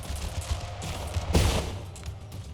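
A distant musket volley from troops in the Empire: Total War battle, a single rolling crackle of massed shots rising briefly over a low rumbling field of battle noise.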